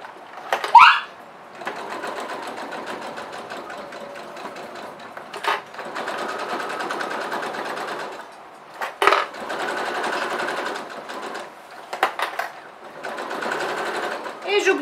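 A domestic sewing machine stitches pieces of fabric in several steady runs of a few seconds each, a fast even whirring hum with short pauses between, while someone speaks French in between.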